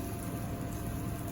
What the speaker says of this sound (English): you'll see it start to sizzle